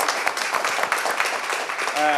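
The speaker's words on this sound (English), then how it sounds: "I want to hear a round of applause for you guys too" Steady audience applause for a panel at an afternoon discussion event, dense crowd clapping holding at an even level throughout, with a voice starting to speak near the end.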